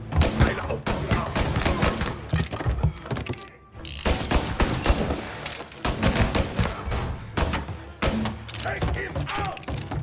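Rapid gunfire rattles in the Mafia: Definitive Edition video game, bursts of shots repeating throughout amid mechanical clatter, with game voices shouting underneath.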